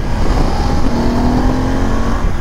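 A 2021 BMW F 850 GS motorcycle accelerates hard, its engine roaring loud and close with a steady rising drone that holds for several seconds without pause.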